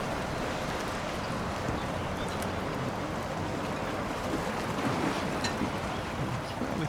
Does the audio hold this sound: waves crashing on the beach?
yes